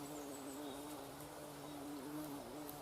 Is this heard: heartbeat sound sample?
no